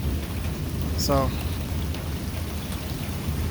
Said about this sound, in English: we can take the rain and the lightning all day